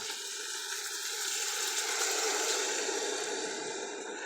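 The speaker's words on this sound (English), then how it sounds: "I'm gonna add 2 cups of water right now." A continuous rushing, splashing stream of water pouring steadily into a cooking pot, close and moderately loud, with no talking.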